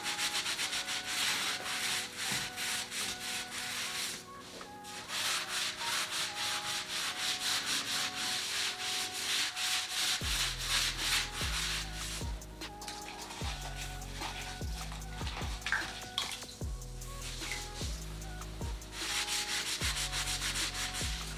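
A wet sponge rubs back and forth over the edges of a drywall patch to smooth it, giving a steady scrubbing sound under loud background music with no talking.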